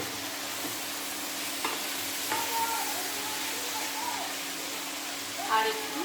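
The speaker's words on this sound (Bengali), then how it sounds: "এবার আমি ভালোভাবে নাড়িয়ে নেব।" Mixed vegetables with kohlrabi and radish are stirred while frying in a pan, giving a steady sizzle with occasional scraping clinks of the spoon against the pan.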